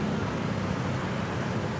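Truck engine droning steadily on the road beside a roadside food stall, a loud, low continuous rumble with no clear rise or fall over the short span.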